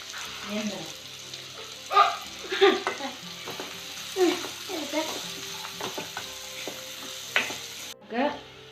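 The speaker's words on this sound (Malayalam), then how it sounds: "എണ്ണ ചൂടായ ഉള്ളി ചേർത്ത് കൊടുക്കാം" Onion frying in hot oil for chicken tikka masala, a continuous sizzle with repeated stirring scrapes and clacks against the pan, close and moderately loud, with some background sounds that may be a voice, cutting off abruptly near the end.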